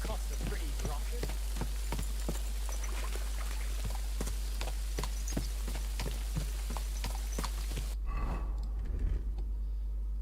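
A horse's hooves clip-clop in Kingdom Come: Deliverance 2, a steady, even rhythm of sharp hoofbeats over a low hum that runs for about eight seconds and then stops, leaving faint movement.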